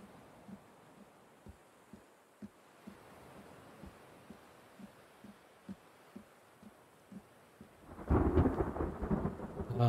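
Thunderstorm in the survival game The Forest: a steady hiss of rain with a dull, regular thumping underneath, then a loud rolling crack of thunder bursts in near the end and keeps rumbling.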